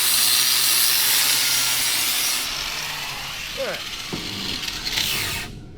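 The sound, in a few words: cleaning paint off a go-kart suspension part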